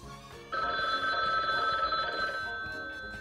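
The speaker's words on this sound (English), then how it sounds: "What is the phone ringing?" A telephone rings in the Gartic Phone online drawing game, a bright electronic trill that starts abruptly and sustains for several seconds before slowly fading, heard alone.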